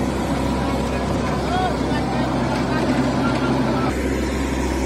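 A Mahindra 575 tractor engine running fully loaded, hauling a trolley: a continuous, loud, low diesel drone with a steady rumble that shifts slightly in tone near the end.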